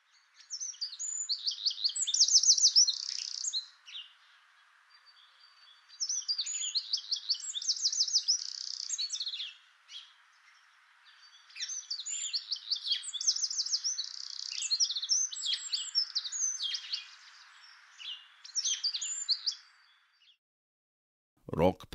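A wren on Orkney sings in four bright, rapid trilling bursts separated by short pauses, clear and moderately close, with no other sound.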